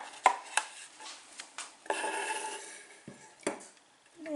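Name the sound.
spoon adding ginger, honey and lemon into jar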